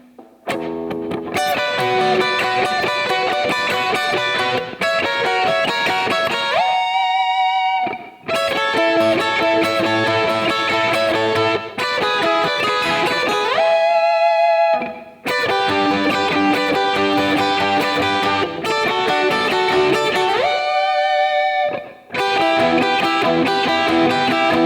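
Two distorted electric guitars play a solo together in a steady riff, with sustained bent notes ringing out between phrases and brief gaps of silence.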